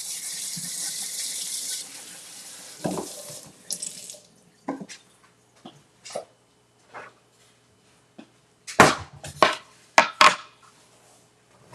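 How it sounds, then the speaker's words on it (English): Tap water runs into a kitchen sink as strawberries are rinsed: a steady gush at first, then scattered splashes, drips and short bursts of water with quiet gaps between. "let's rinse these off."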